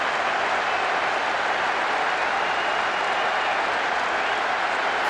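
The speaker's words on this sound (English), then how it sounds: "The crowd are enjoying the goal celebration." Stadium crowd at an international football match in Portugal cheers and applauds a goal celebration, a dense, steady roar of clapping and voices filling the whole stretch without pause.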